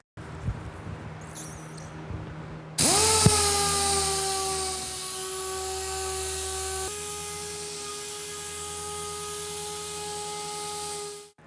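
An electric sander prepping varnish on a boat spins up with a sharp start and then runs as a steady high-pitched whine, close and loud, dropping slightly in pitch partway through before cutting off.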